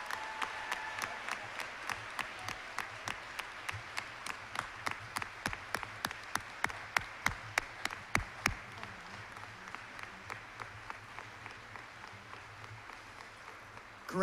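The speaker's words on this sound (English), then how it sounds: "let's give them one huge round of applause for serving our country." Graduates leave the stage at a senior academic awards assembly while the audience claps, a rhythmic unison beat that is fairly faint, steady for about eight seconds, then thinning and slowing before it stops.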